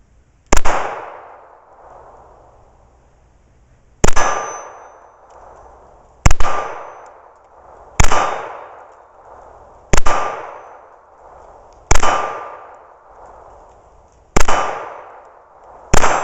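A Walther PK380 .380 ACP double-action/single-action pistol fires seven loud, sharp shots at irregular intervals of roughly two seconds, each cracking hard and decaying with a ringing echo, with no talking.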